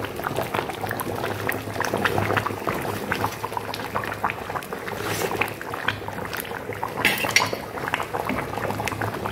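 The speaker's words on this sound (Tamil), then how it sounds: "நல்லா கொதிச்சுக்கிட்டு இருக்கு ஃப்ரெண்ட்ஸ்" A village fish curry bubbling at a steady boil in a pot, a continuous close burble of liquid with occasional clinks of metal.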